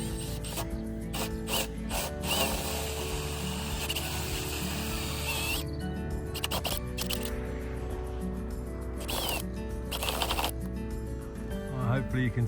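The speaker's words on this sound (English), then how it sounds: "just drilled a hole through that bamboo piece" A hole is drilled through a piece of bamboo, giving a steady, close grinding whir with rattling, ratchet-like mechanical clicks that run on for several seconds and stop and start near the end.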